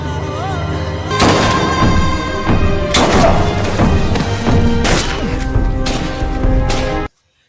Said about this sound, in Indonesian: Kapten Amir dengan terpaksa menembak Budi